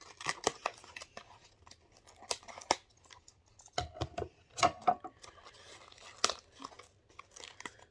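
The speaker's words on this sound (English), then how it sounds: "So I'm just gonna cut through," Scissors or a blade cut through a mailed package holding a chip, giving sharp crinkling snips and crunches of packing material, close and fairly quiet.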